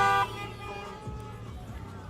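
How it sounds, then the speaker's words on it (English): Car horns honk in a busy Portland street scene during a protest, one steady tone at the start giving way to a rumbling mix of traffic noise and distant voices. "a lot of horn honking going on"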